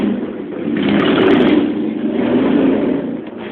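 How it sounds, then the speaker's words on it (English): Harley-Davidson motorcycles rev outdoors, a broad steady engine rumble that swells and eases over a few seconds, fairly loud and continuous with no talking. "you can hear the Harleys outside, man, trying to do their thing"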